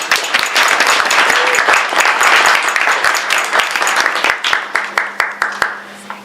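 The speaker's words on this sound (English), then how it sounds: "Let's give them a round of applause." A close, loud round of applause from an audience at a campus event honouring food pantry donors, many hands clapping densely before thinning to scattered claps at the end.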